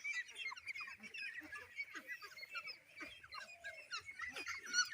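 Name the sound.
ducks honking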